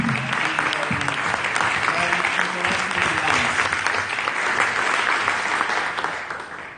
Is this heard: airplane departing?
no